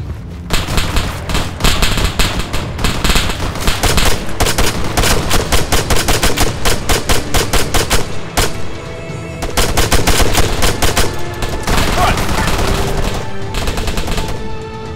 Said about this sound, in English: Engage that machine gunner!